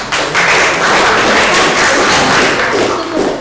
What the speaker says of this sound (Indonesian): Beri tepuk tangan dulu untuk kelompok.